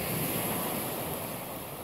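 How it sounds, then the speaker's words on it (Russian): Sea waves wash steadily onto the shore as a continuous broadband rush, faint and distant, with some wind noise and no voices. "Вот такое у нас море."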